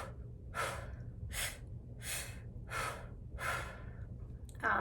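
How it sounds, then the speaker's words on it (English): A woman demonstrates a labor breathing technique for pregnancy, five slow, evenly spaced breaths drawn close to the microphone, each a breathy rush with short pauses between, then a sharper breath at the end. "the second breathing technique"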